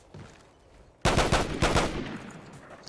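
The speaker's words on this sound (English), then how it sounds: "Listen, Raffico with a silencer." A silenced Raffica fires in the video game Call of Duty: Ghosts. After a quiet opening second, close, loud rapid-fire bursts of muffled shots crack in tight succession, then fade into a lingering tail.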